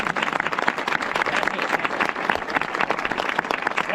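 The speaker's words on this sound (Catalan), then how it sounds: "Ara donem un fort aplaudiment." A crowd gives strong applause during a theatrical walking tour of characters behind street names, with brisk, dense clapping from many hands held steady and fairly near for the whole stretch.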